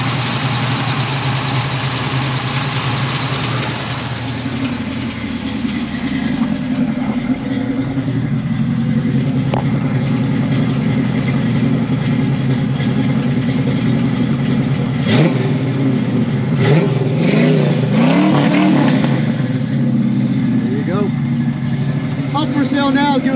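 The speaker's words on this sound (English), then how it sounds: "Engine sounds good." A 1978 Pontiac Trans Am engine runs steadily close by, idling with a loud, continuous rumble and rising briefly in a few revs near the end, while people talk over it.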